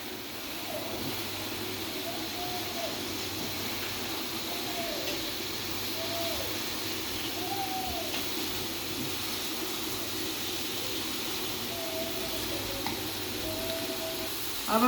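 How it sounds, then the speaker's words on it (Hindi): Mixed vegetables fry in a pan for a dhaba-style mixed sabzi, giving a steady, continuous close hiss that stays even throughout. "अब हम इसको अच्छी तरह भून लेंगे"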